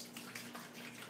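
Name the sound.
pouring liquid while making mead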